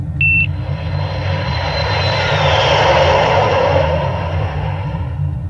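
An aircraft lands on runway 27 right at London Heathrow with a loud, steady engine roar throughout, and a short high electronic beep sounds at the very start.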